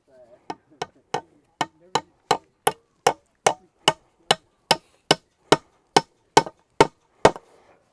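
Steady series of about eighteen sharp hammer blows, close and loud, driving nails to tack wood onto a pig fence at a farm in Oʻahu, Hawaiʻi, with a faint voice murmuring in the background.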